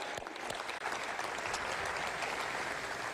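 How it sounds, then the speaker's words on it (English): Applause from the room at a college football press conference, sustained moderate clapping heard somewhat distant and evenly spread, with no speech over it. "Yeah, let's clap on that."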